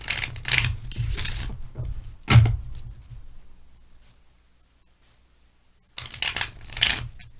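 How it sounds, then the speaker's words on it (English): Tarot cards being shuffled up close in several quick riffling bursts, separated by a quiet pause, with no talking. "I always pre-shuffle the cards, but I shuffle on camera"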